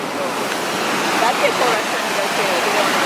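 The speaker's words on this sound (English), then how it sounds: "Janie, what do you think about the waterfall?" A waterfall in Cleveland gives a steady, close, full roar of falling water that fills the short stretch without pause.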